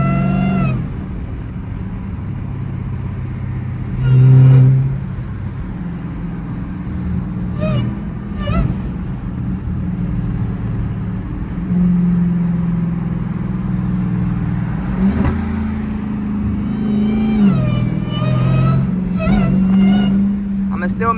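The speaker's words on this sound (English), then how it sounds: "I'm gonna still make sure y'all hear that whine though." Supercharged Dodge Demon 170 Charger driving with its hood off, a steady engine drone and whine that rises and falls with throttle, while people talk loudly over it throughout.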